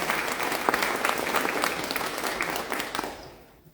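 A crowd claps for a fashion model in steady, dense applause that fades out toward the end.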